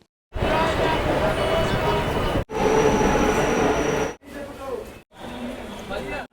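A train rolls through Naihati station, a loud continuous rumble and rattle broken into several segments by abrupt cuts, with a voice heard over parts of it.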